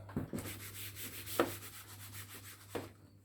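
Writing being rubbed off a board with an eraser during a maths lesson on averages: steady close rhythmic scrubbing strokes with a few firmer scuffs over a low hum, no speech.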